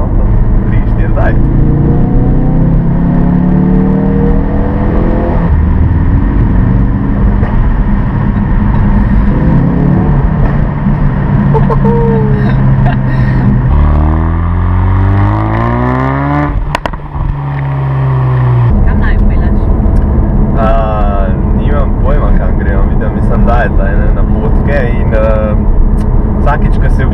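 Ford Focus RS engine revving hard inside a road tunnel, with rising and falling sweeps through the gears and booming echo, under steady in-car conversation.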